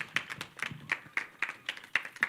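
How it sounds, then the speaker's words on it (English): An audience claps for panelists walking onto a stage at a graduate career talk; a few distinct, fairly quiet hand claps fall in a loose, quick rhythm. "Let's clap for them as they come."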